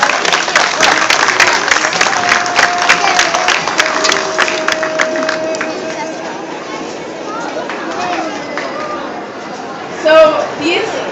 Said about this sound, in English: So if you guys want to give them a round of applause,